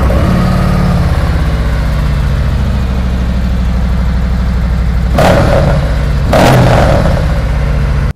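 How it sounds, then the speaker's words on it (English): A Harley-Davidson motorcycle engine idles with a deep, steady rumble through 2017 Screaming Eagle 4.5-inch Street Cannon slip-on exhaust, then two sharp throttle blips rev it up briefly before it settles again. "Let's go ahead and start it up and see what you think."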